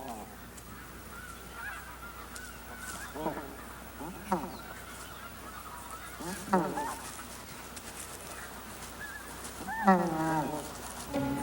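Rusty geese honking at their nests in the Soviet Arctic, four or five separate bursts of harsh calls spread over a low outdoor background, the last burst loudest and closest.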